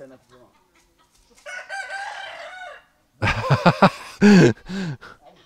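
Hens cluck and squawk close by in short bursts, with a rooster's crow among them; brief gaps of quiet between calls.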